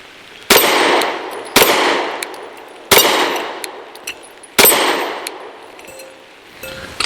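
A Derya Arms DY9 firing PMC 124 grain rounds produces four sharp, loud shots at irregular intervals outdoors, each followed by a ringing decay and a faint metallic ping, with a fifth shot cut off at the end.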